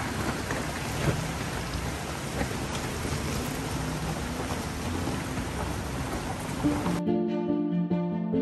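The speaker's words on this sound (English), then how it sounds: "Clouds roll in and it starts to rain." Steady heavy rain in the mountains of northern British Columbia hisses and patters densely on surfaces for several seconds, then cuts off abruptly into a quieter tonal hum.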